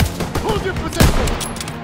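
Gunfire in the World War II shooter game Call of Duty: WWII, with rapid overlapping shots and bursts in a short, loud, continuous battle din, with shouting voices mixed in.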